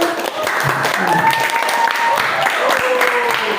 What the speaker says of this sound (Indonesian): tepuk tangan untuk Amira.